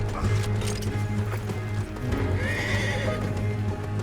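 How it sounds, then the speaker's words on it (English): Hooves clatter in a running rhythm while a horse whinnies loudly, with a voice briefly heard in a busy outdoor scene from the video game Red Dead Redemption 2. "Let's get to those horses, Morgan"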